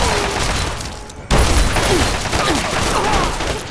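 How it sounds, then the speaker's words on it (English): Grenades fired at point-blank range in the Fallout Tale of Two Wastelands video game: a sudden loud blast partway through, followed by sustained crackling and rumbling debris noise. "Are they firing grenades at point-blank range?"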